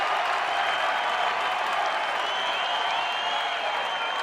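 A home crowd at a 2013 women's Lingerie Football League game in Perth, Western Australia Angels versus New South Wales, cheers and claps in a steady, loud roar throughout.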